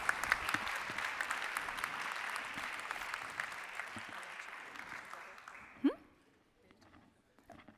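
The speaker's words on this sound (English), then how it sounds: "Big applause to Claudia." An audience at an award ceremony claps steadily for a second-prize winner, a dense broad wash of applause that fades out around six seconds, followed by a brief voice and quieter room sounds.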